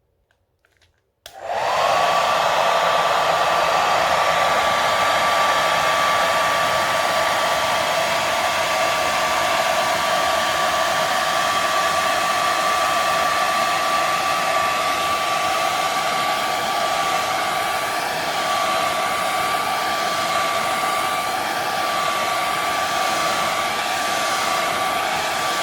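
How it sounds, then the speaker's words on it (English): A hair dryer switches on after a brief moment of near silence and blows steadily from up high over a resin sculpture, a loud continuous whooshing roar with a fixed motor whine that holds without a break to the end, with no voices. "So I'm going to use the hairdryer from up high because I don't want it blasting all over the place."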